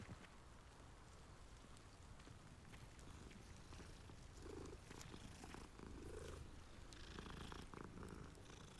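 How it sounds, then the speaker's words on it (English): A cat purrs inside the Hogwarts Legacy video game on Xbox Series S, a steady soft rumble running throughout under faint game ambience resembling light rain, with no talking. "There's another cat."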